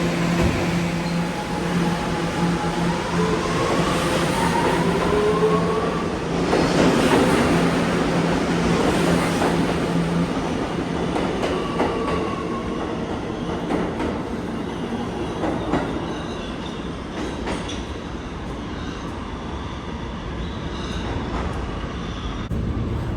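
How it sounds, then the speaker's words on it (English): A New York City subway A train pulls into a station, its loud rumble and clattering wheels filling the platform, with metallic squeals and screeches rising and fading as the cars roll in and slow. "we're gonna wait for the A train to arrive"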